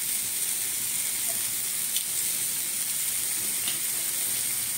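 Red amaranth greens fry with crushed dried lentil dumplings in a pan, giving a steady close-up sizzle and hiss, with a faint stir or clink now and then and no talking.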